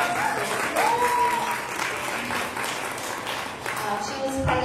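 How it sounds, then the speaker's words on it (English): An audience applauds a young woman from Los Angeles as she is introduced, with steady clapping throughout and a voice speaking over the applause. "Can we give her a round of applause?"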